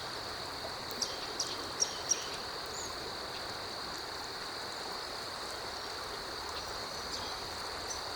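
Creek water rushes steadily, a constant hiss at moderate distance. A high insect-like whine runs underneath, with a few faint clicks early on.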